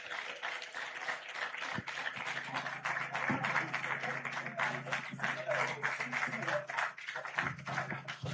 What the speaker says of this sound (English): A round of applause for them again, please.